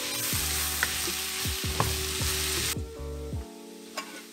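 Garlic fries in a hot pan for keto pad thai, a loud, steady sizzle close by with a few light clicks and stirring knocks, and no talking.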